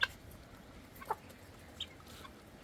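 Chickens on a rural farm give a few faint, scattered clucks at a distance, with soft outdoor background around them.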